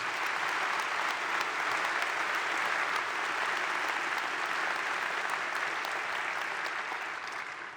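A crowd claps steadily in sustained applause, dense and even throughout before easing slightly at the end.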